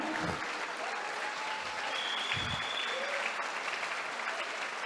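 A church congregation applauds for Jesus at a Spanish-language service, with dense, steady clapping from a large crowd filling the room throughout.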